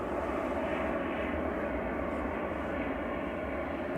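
An EasyJet airliner arriving at Manchester Airport, heard from a distance as a steady, faint broadband jet roar that holds evenly for a few seconds with no voices over it.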